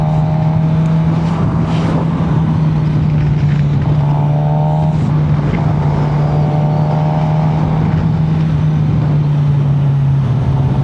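A Suzuki GSX-R 600 sport motorcycle riding under way, its engine a loud steady drone that holds near one pitch and dips slightly, with brief higher whines from revving and constant wind rush.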